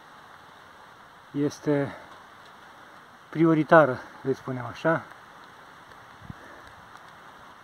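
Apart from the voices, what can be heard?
rain falling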